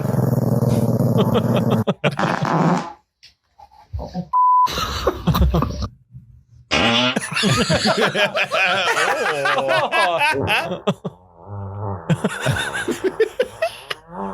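A dog growls and grumbles in a short played clip, loud and close, in broken bursts with brief silent gaps, mixed with talk and noise from the clip.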